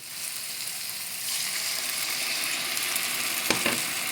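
Water poured into a hot pan of lham lahlou, a Moroccan sweet meat dish, sets off a loud steady sizzle and bubbling hiss up close, with a brief clink near the end.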